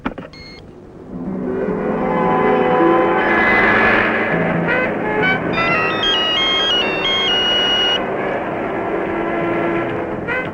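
A telephone rings with a loud, melodic electronic ringtone during a hospital scene in a Telugu comedy film, the tune repeating steadily for several seconds over a dense background.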